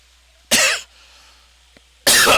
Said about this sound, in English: not a cough again